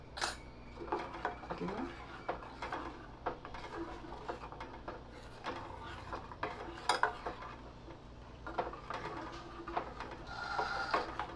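Kadhi being stirred in a pot, with faint scraping and scattered metallic clinks of a spoon against the vessel, quiet and close, while a person talks over it.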